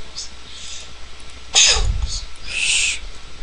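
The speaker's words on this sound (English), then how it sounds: "Just sneezing?" A single sharp sneeze from a person during a multiplayer mining game session, one sudden close burst standing out over quiet game background sounds.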